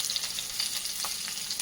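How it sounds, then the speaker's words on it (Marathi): Urad dal, curry leaves and chopped green chillies sizzle in hot oil over a low flame for tempering, a close, continuous crackling fry with small pops. "त्यानंतर कढीपत्ता, त्याच्यासोबतच 2 ते 3 चिरलेल्या मिरच्या होत्या त्या मी टाकते"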